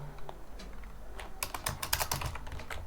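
Code being typed on a computer keyboard while writing JavaScript, with sparse key taps at first and then a rapid close burst of clicking keystrokes, without speech.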